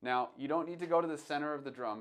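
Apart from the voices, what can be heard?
None of the usual background noises is heard.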